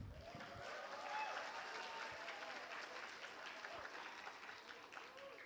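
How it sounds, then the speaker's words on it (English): Audience applause for a visiting professor at an Indonesian nutrition lecture, a steady wash of many hands clapping in a hall, even and sustained, heard from some distance and fairly quiet. "So give a big applause for him."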